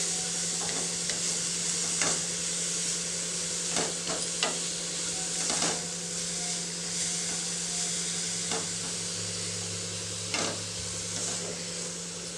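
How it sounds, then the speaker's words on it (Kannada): Grated carrot frying in ghee for carrot halwa sizzles steadily in the pan, with a constant hiss under repeated scraping stirs of a spoon, close up and without voices. "ಒಂದು ಎರಡು ನಿಮಿಷದವರೆಗೂ ತುಪ್ಪದಲ್ಲಿ ಚೆನ್ನಾಗಿ ಫ್ರೈ ಮಾಡ್ಕೊಳ್ಳಿ"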